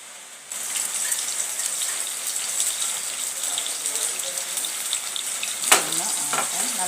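Mustard seeds and dried red chillies frying in hot coconut oil on a rainy day, a steady crackling sizzle that starts abruptly and runs on with a brief louder pop and spatter near the end.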